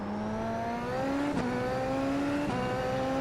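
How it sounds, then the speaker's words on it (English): Race car in the iRacing sim, engine note holding steady then blipping through quick downshifts under braking, two sharp shift transients over a continuous loud whine. "This is a slight little downshift, brake, and then we're braking."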